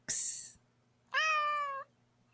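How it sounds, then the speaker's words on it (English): Indoor cat giving two close, clear meows, the first short and bright, the second a longer, drawn-out call after a brief silence. "my cat, Nippy, wants to be a part of this too"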